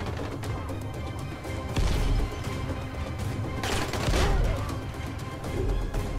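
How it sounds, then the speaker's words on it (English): Fireworks thrown at an enemy in the video game Dying Light go off as a run of loud crackling bangs and booms, with bursts around two and four seconds over a steady bed of game noise and music. "Let's throw the fireworks at him."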